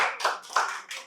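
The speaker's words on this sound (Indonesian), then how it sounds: "Tepuk tangan, pertanyaannya bagus" Audience applause at a talk on coffee brewing and building a coffee brand, a short burst of several quick clapping bursts, close and fairly loud, with no talking over it.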